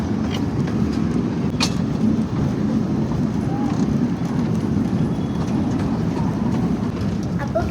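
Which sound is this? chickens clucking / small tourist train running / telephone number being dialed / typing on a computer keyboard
small tourist train running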